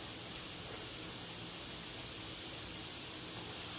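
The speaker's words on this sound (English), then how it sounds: "we're going to take half of our shallots and we're going to put them in the pan. And you should hear a nice sizzle if your pan is hot enough." Shallots dropped into a hot pan sizzle in a dense, steady hiss, loud and close, unbroken for the whole short stretch with no talking over it.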